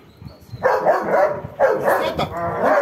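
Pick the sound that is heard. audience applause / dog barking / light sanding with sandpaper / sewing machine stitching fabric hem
dog barking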